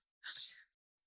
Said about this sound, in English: No, that was an amazing sneeze.